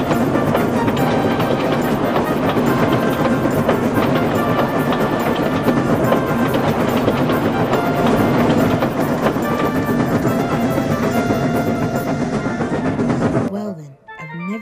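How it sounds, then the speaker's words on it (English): Fast steam locomotive from a Sudrian railway story, the big engine Gordon racing in at high speed, a dense, loud continuous rumble and clatter of rail noise that holds steady before cutting off abruptly near the end. "that sounds like Gordon, and it looks like he's coming in really fast"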